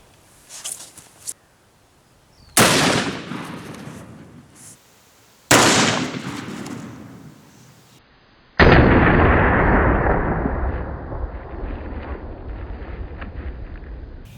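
A .500 Smith & Wesson Magnum firing 350-grain hollow points into ballistics gel: three loud, close gunshots spaced a few seconds apart, each ringing out in a long decaying roar. There are faint handling sounds before the first shot.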